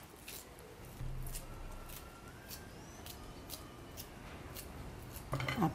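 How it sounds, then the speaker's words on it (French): Scissors snip chives on a kitchen counter: a quiet series of short, crisp cuts repeating every fraction of a second, with soft handling noises and a clatter near the end. "on découpe le reste de la ciboulette"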